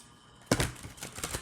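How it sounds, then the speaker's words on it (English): Four Elevated Understanding card decks riffle shuffled by hand, a sudden sharp burst of fluttering card snaps followed by a run of quick, close rattling riffles. "Going to give them a bit more of a ruffle shuffle."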